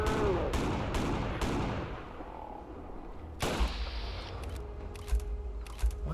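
Loud, sharp gunshots ring out one after another in the Fallout 4 Caesar's Legion mod, a quick run of three at the start and a later burst with heavy low thumps, carrying over a busy game soundscape.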